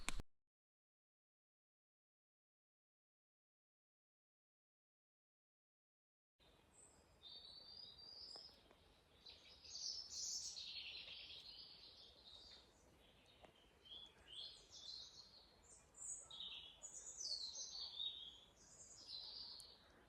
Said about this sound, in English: That bird song is just beautiful.